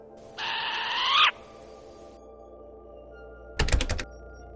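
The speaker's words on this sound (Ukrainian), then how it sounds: "свист і виття болотяної сови." A harsh, wavering short-eared owl call sounds loudly for about a second, followed by quiet and then a brief burst of sharp clattering knocks.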